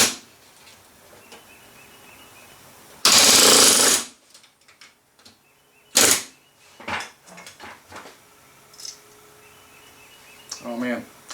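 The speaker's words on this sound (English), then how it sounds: "push the rivet into the part and keep that head seated, and then hold the bucking bar behind it" A pneumatic rivet gun fires a rivet against a bucking bar held behind the part: one loud, dense hammering burst of about a second and a shorter sharp blast later, with scattered clicks, handling knocks and brief talk in between.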